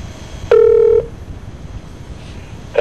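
A single touch-tone telephone keypad beep rings out clearly and steadily for about half a second, followed by faint line noise and the start of a second tone at the very end.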